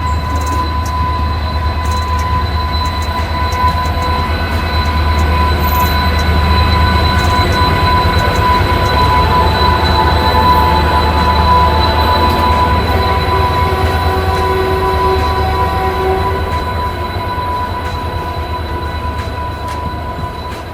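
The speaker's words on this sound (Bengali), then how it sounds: "আমাদের ট্রেন এখন ডিপার্চার নিল হাওড়া রেলওয়ে স্টেশন থেকে" Kandari Express pulling out of Howrah station on its run to Digha: a loud, continuous rail rumble with sustained wheel squeal tones, heard from on board and steady throughout, with no talk.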